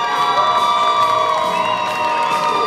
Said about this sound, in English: Crowd really getting behind this team.